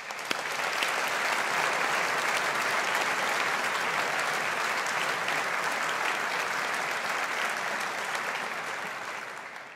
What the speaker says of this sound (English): let's take this opportunity to show our appreciation and gratitude with another round of applause.